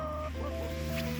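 Backyard hens, including Orpingtons, cluck softly and steadily at close range in a brief, continuous burst with no talking.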